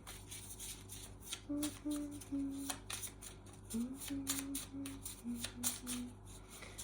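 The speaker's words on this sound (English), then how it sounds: "So let's have a little shuffle and see." Tarot cards being shuffled in repeated bursts of riffling and slapping over a steady low hum, with soft tones in the background.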